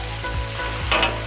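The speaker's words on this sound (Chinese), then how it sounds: "把牛舌重新回锅" Beef tongue goes back into a hot wok with chili bean paste, chilies, ginger and scallion. It sizzles loudly and steadily while the spatula scrapes at an even rhythm, with a brighter clatter near the end and no voices.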